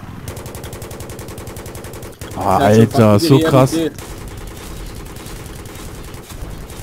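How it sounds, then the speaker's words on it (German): An AH-1Z attack helicopter's cannon fires in Battlefield 3 as steady rapid bursts with loud explosive impacts in the middle, while someone talks excitedly over it. "Vor allem der Splash-Damage von der Kanone, die ich hier gerade habe."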